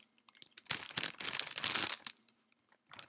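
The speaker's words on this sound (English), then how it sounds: "And yes, you just did see a plastic bag." A plastic bag crinkles up close in bursts of rustling and crunching, loudest in the middle, with brief quieter rustles before and after, no talk.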